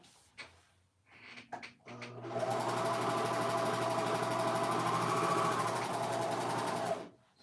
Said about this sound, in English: Let's serge it real quick.